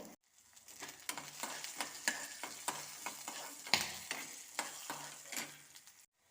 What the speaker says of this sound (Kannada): ಉದ್ದಿನಬೇಳೆ, ಕೊತ್ತಂಬರಿ, ಸೂಜಿ ಮೆಣಸು ಚಲೋ ಹುರ್ಕೊಳ್ಳವು